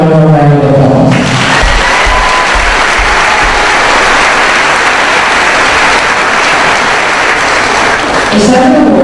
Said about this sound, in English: Would you all please give them one more round of applause?